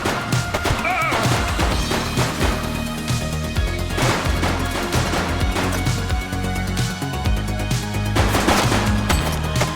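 Rapid automatic gunfire in The Precinct video game, dense bursts and loud cracks running continuously over a driving music bed with brief shouted voices mixed in.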